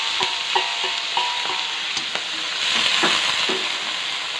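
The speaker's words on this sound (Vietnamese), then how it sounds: "mình phi thơm cái mặt ngao lên như vậy" Clams sizzling and crackling as they are stir-fried in a pot for a gourd and clam soup, with a steady close hiss broken by repeated sharp pops and clinks of stirring.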